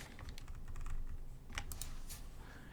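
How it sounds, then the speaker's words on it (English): Close, steady typing on a computer keyboard: soft clustered key taps over a low background hum, with no voices. "If you were to type something as simple as this"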